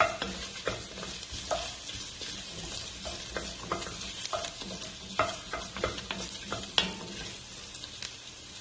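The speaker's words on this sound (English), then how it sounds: "and the dried chili. Give it a stir." Dried chili, ginger and garlic fry with a steady close sizzle in a pot, punctuated by repeated scraping and tapping of a spoon as it is stirred, with no talking.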